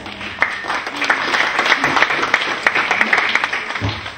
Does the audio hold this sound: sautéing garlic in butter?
no